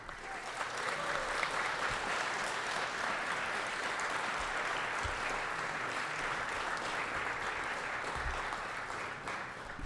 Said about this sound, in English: Big round of applause for Mike.